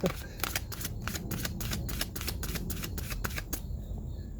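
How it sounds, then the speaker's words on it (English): Playing cards are riffled and shuffled in quick repeated bursts of crisp flicking, close by, with faint background noise. "Confirmations in shuffling these cards."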